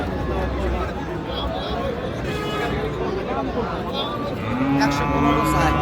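Cattle, Friesian and crossbred bulls and calves, moo repeatedly amid a busy Raniganj cattle market crowd, with people chattering and calling out all around the nearby animals.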